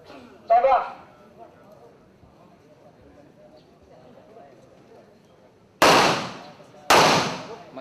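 Three sharp, loud pistol shots ring out at an outdoor military shooting range, one early and then two spaced about a second apart near the end, with faint background noise between them.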